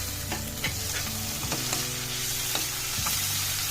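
Chopped small tomatoes fry and sizzle in a pan for methi dal, a steady close sizzle with several clicks and scrapes of a spoon stirring through.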